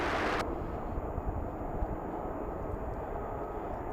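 A fixed-wing airplane taking off at Anchorage Ted Stevens International Airport in freezing weather, heard as a steady, distant low roar of jet engines that holds evenly throughout after a brief gust of wind noise at the start.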